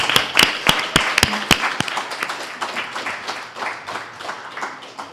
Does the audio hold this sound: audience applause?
yes